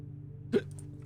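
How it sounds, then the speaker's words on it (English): A single sharp hiccup from a person, one brief clear burst standing out alone over a steady low background hum. "And now I have the hiccups."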